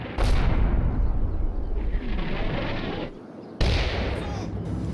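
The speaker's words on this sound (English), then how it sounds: "I start to see a mortar barrage fall on the area where I need to set my overwatch" Mortar barrage in the WWII strategy game Combat Mission Fortress Italy, set in Italy in 1943: loud, close, rumbling blasts and crashing impacts, easing briefly before a second heavy detonation.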